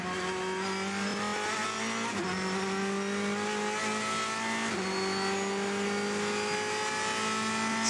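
A Ferrari race car at the 24 Hours of Le Mans brakes hard then accelerates through its gears, a loud, continuous engine note with falling and rising pitch sweeps and a brief shift break, with no voices over it.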